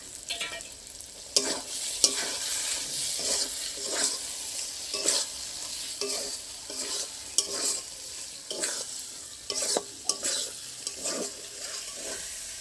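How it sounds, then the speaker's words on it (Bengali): Soaked peas and beet salt are stirred into hot oil and spices in a frying pan for a vegetarian paneer dum, giving steady close sizzling with repeated sharp scrapes and clinks of a spatula against the pan, no voices. "এবার আমি ভিজিয়ে রাখা যে মটরশুঁটিগুলো রেখেছিলাম দিয়ে দেবো।"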